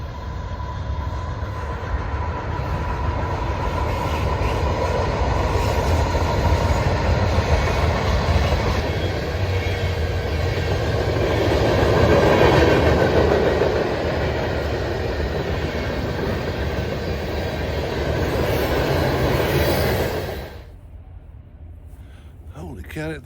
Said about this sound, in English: here comes a choo-choo train